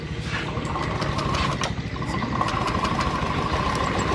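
A Honda Scoopy FI scooter engine idles after repair, giving a steady low mechanical hum with a faint rattle near the roller housing, running continuously and close with no talk.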